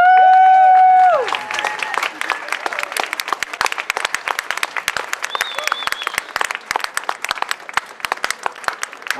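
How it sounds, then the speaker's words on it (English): A crowd at a solidarity vigil for Julian Assange breaks into sustained applause after a loud tonal opening sound, crisp claps close and many, with a few faint voices in the mix. "let's give a great round of applause to them"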